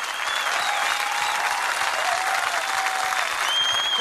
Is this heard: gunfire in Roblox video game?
no